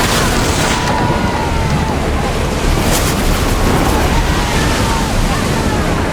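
Naval combat in Assassin's Creed Odyssey: loud, continuous roar of ship cannon fire and booming explosions over crashing waves and wind, with shouted voices in the mix.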